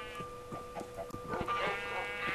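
Sheep in the video game Minecraft bleat several times over a steady tonal game hum, short wavering calls close together, with no talk.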